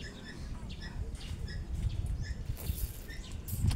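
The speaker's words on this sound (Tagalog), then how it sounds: "maraming ibon sa puno" Numerous birds in a tree chirp and call in short, scattered bursts at a moderate distance, over a low rumbling outdoor background with occasional rustling.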